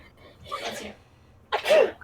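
During a tabletop role-playing game session, a person sneezes twice in quick succession, a softer first burst followed by a louder, sharper one, close to the microphone.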